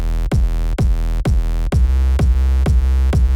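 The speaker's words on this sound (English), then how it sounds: "And now with Compactor, it sounds like this." Kick and bass sidechained with the Kilohertz KHS Compactor plugin: a regular thumping kick pattern, with the sustained bass ducking briefly at each hit. The mix is loud and clean and has no voices.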